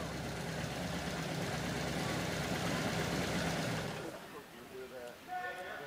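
A car engine runs steadily at a car show, a dense, loud rumble that holds for about four seconds and then drops away, leaving quieter background noise with faint voices.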